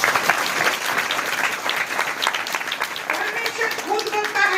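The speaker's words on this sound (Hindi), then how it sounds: "सब लोग ताली बजाइए" Congregation clapping hands during a Sunday church service, a dense sustained burst of applause filling the room, with a voice and some musical tones rising beneath it toward the end.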